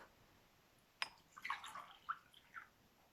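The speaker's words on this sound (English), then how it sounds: "Now, what if I pour this water into this cup?" Water poured from one container into a larger cup in a classroom science demonstration, heard as a brief splash followed by a few short, soft trickling and dripping bursts, fairly quiet and alone.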